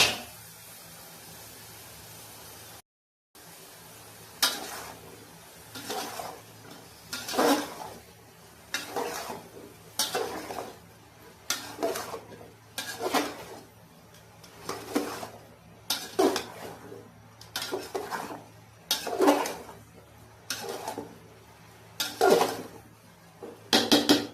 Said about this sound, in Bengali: এখন এই লাউটা কষিয়ে